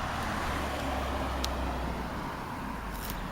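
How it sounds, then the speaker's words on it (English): Cars driving along a road by Patricia Lake make a steady, low roadway rumble at moderate distance, a continuous wash with no clear individual pass-bys and no talk over it. "Pardon the noise from some cars going along the road here."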